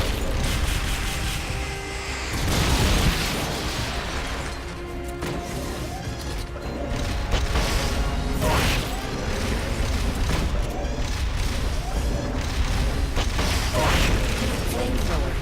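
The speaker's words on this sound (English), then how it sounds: "Launching S-mines. Firing rocket launcher." Heavy mechanical combat in Metal Gear Solid Peace Walker as S-mines launch and a rocket launcher fires, a dense loud din of clanking machinery, crashes and booms, with a voice calling out over it.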